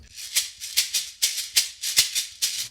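Shekere (yequeré) percussion fill, a beaded gourd shaken in quick, even pulses, about eight crisp rattling bursts over under three seconds, close and fairly quiet with nothing else heard.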